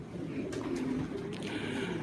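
Posta-type pigeons, part of a flock of about 140 birds, coo softly and continuously in a loft, low murmuring calls overlapping with brief higher chirps.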